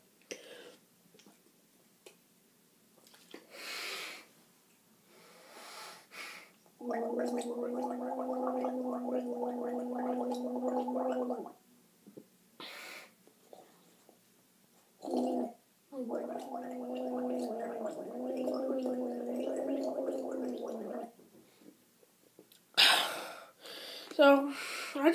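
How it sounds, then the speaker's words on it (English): A person gargles water in two long bubbling bursts of several seconds each, separated by quiet pauses, with short clicks and breaths around them. "So, I'm going to do the gargling."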